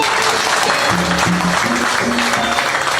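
A church congregation applauding during a worship service, dense continuous clapping with some voices and tonal sound mixed in, steady and fairly loud for a few seconds.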